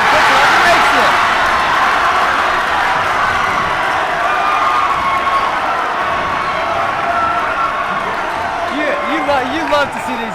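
A high school basketball crowd in a gym cheers after a made shot, a loud sustained roar that stays steady throughout while a commentator talks over it.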